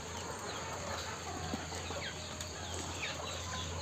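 A large poultry batch of chickens raised for sale clucks at a low level in a busy, noisy shed with constant background hum.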